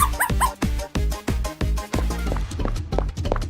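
A small dog barks and yips in a quick rhythmic series of about eight loud, close, sharp calls, with no speech.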